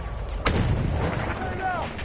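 A grenade goes off in a war video game with an old Martini-Henry rifle setting, one sudden heavy boom and a rumbling tail, under game voices and battle noise.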